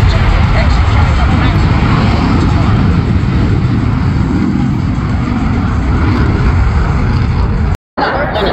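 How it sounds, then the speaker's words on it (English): A stunt aircraft engine roars loudly and steadily at the Dayton Air Show with Red Bull stunt teams, a constant broadband drone with a brief dropout near the end, while an announcer talks over it. "Stick and point the aircraft in a nearly vertical attitude"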